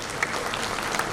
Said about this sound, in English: So can we have a big round of applause for you guys